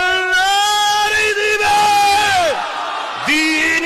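A large crowd at a religious gathering shouts back in answer to a takbir call, loud massed voices in long drawn-out chanted cries, one swelling shout falling away, then another rising again.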